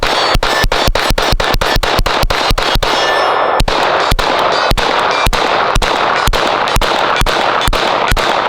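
Rapid gunfire from a NEMO Mongoose pistol caliber carbine fired with no compensator at a range: loud, sharp, close shots in a fast, steady string with only short gaps and no talking.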